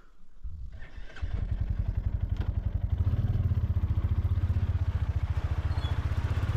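A motorcycle fires up and settles into a loud, close, rhythmic idle that thumps steadily, setting off from a home in Bhubaneswar at the start of a ride; no one speaks.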